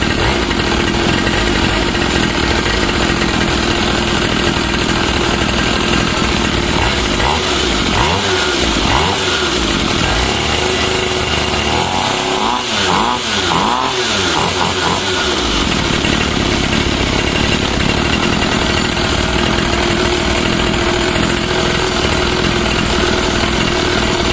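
A pocket dirt bike's small engine runs after a cold start, a loud, steady buzzing drone for the whole stretch with some uneven surging partway through.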